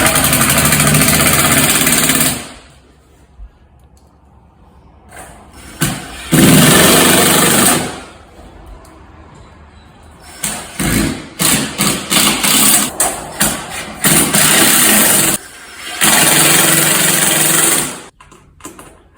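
Ryobi cordless drill driving screws into high-rib metal lath over brick on a fireplace, loud whirring bursts in several runs of a few seconds each, with short quiet gaps between screws.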